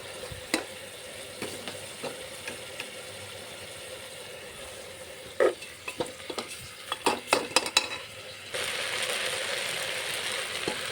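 Rice and lentils stirred into a pot with a utensil, giving close scraping and clattering strokes over a steady sizzle, which grows into a louder, continuous hiss near the end. No voices are heard.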